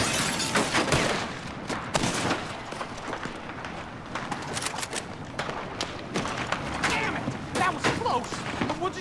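Sniper gunfire in a Red Dead Redemption 2 Online shootout rings out as repeated sharp cracks and booms, scattered irregularly over continuous in-game commotion and background chatter.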